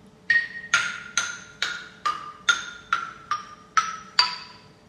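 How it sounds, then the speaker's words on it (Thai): Nine wooden bars of a Thai ranat xylophone are struck one at a time from smallest to largest at an even pace, each a bright ringing knock that falls in pitch from first to last. "จะเคาะลูกระนาดตั้งแต่ลูกแรกเลยที่มีขนาดเล็กแล้วก็ไล่ไปขนาดใหญ่"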